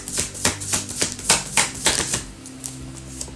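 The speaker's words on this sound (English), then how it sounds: "This deck doesn't want to shuffle anymore." Rapid rhythmic riffling taps of a tarot card deck being shuffled, about a dozen crisp flicks in quick succession, close and fairly soft, then fading into quiet.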